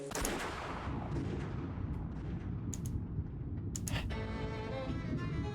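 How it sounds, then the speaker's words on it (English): Gunshot in the visual novel game Umineko When They Cry during a typhoon, a sharp loud blast at the start over a heavy roaring storm rumble that continues throughout, with a few crackling hits later. "The sudden sound of a gunshot shook me out of my half-asleep trance."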